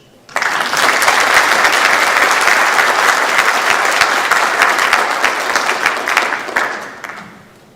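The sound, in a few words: audience applauding at a banquet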